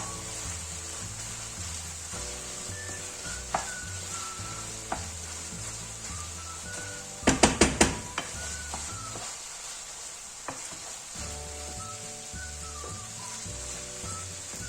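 Tomato and pepper paste stirred in a frying pan for a Gaziantep-style zucchini dish, a soft steady sizzle with occasional spoon scrapes and a quick cluster of sharp knocks midway, under quiet background music.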